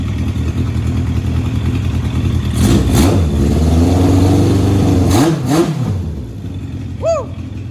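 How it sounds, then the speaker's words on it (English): A race car engine with fresh header bolts revs loudly in several rising and falling bursts, close by, then drops back before a short high whoop of voice at the end. "That seems to be revving right"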